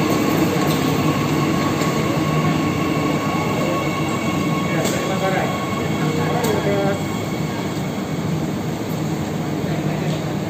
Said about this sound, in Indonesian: Kereta sudah nyampe guys.